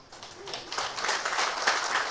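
A church congregation claps in a short burst of applause that builds and holds steady for about two seconds, moderately loud, with no voice over it.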